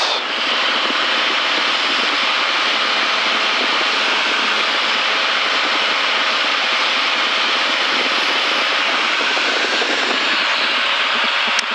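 Steady, loud drone of a light aircraft engine heard from inside the cockpit in flight on approach to a runway, unbroken throughout with no talk.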